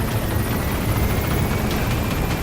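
Steady, loud helicopter rotor drone in Metal Gear Solid V, with a dense whooshing chop, constant throughout, the helicopter hovering nearby.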